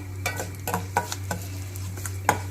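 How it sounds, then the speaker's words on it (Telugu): Cumin and mustard seeds fry in a pan, heard as a faint sizzle with scattered spoon taps and scrapes against the pan over a steady low hum. "కొంచెం జీలకర్ర వేసేసుకొని ఇలా వేయించుకోవాలి"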